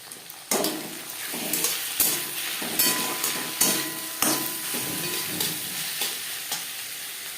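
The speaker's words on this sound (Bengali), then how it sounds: "পেঁয়াজ ভেজে নেওয়ার পর দিয়ে দেবো এক চামচ আদা ও কাঁচা লঙ্কার পেস্ট একটা রসুন যেটা আমি থেতো করে নিয়েছি" Onion frying in a pan with ginger-green chilli paste and crushed garlic makes a loud, close sizzle, while a spatula scrapes and stirs in repeated strokes.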